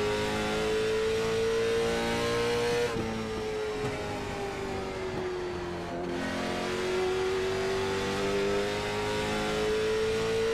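Late model stock cars race at Kern Raceway in iRacing, a loud continuous engine drone with a steady rising and falling pitch as the cars accelerate through the laps, with no talking.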